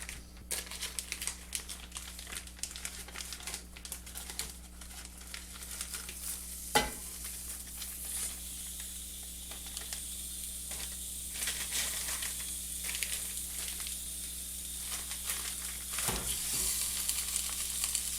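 Partly frozen turkey cooks in a hot pan, giving a steady, close sizzle with crinkly crackles and pops throughout, a few sharper spikes standing out, and no voices.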